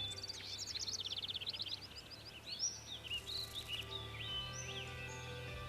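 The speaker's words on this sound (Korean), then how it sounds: "새의 울음소리가 들리시나요?" Several small birds sing and chirp in fast, high, twittering phrases, moderately close, with a steady low hum beneath.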